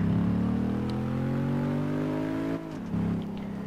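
Car engine in Test Drive Unlimited 2 revving steadily upward under throttle with layered harmonic whine, loud and close, then briefly dropping off before picking up again.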